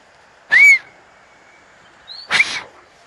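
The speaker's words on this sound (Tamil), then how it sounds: "சார் ஒரு விசில் அடிங்க." A person whistles twice, two short, sharp, piercing calls about two seconds apart, ringing out alone on a hillside trekking trail to Kattathavalam Waterfall in Idukki.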